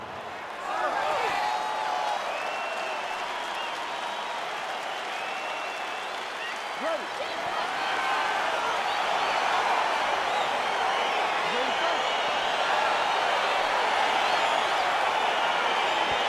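Crowd cheers and applauds at a fight in UFC 4, a loud continuous roar of clapping and whoops that swells slightly as it goes on.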